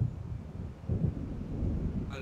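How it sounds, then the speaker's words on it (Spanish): Low rolling thunder of an approaching storm in the video game Alan Wake, a steady deep rumble swelling slightly midway, moderately loud and heard alone. "Al parecer está en camino una tormenta"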